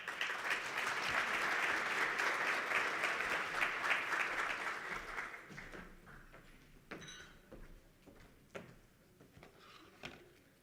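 An audience at a national green hydrogen conference in Namibia claps for a speaker, a dense wash of applause that fades after about five seconds, leaving a few scattered claps and room noise.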